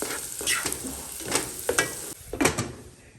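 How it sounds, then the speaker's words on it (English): Food sizzling in a pan while being softened for a stir fry, with steady frying hiss and several scraping stirs at irregular intervals, no talking. "I'm just cooking this till it's soft enough so we won't have some hard chunks"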